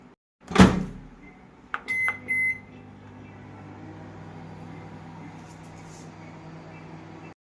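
A microwave oven reheating momos gives a sharp clunk and a couple of quick beeps, then settles into a steady low hum that runs on evenly to the end.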